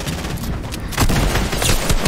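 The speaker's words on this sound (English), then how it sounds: "Lasered him with the scar!" SCAR assault rifle firing in Fortnite, a dense rattling burst of rapid shots that grows louder and harsher after a brief lull, loud and close with no talk over it.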